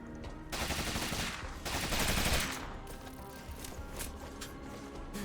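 Rapid gunfire from a gun in the video game Rogue Legacy 2, played as the Gunner class, sounding as a dense burst of loud shots with smoky crackle and layered game music behind, fading into a steadier rattling bed.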